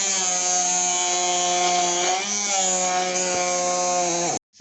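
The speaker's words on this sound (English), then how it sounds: "then blend." A blender whirs steadily as it purees onions with a little water for Ghanaian kelewele. The motor whine is loud and continuous for about four seconds, dips briefly midway and then cuts off abruptly.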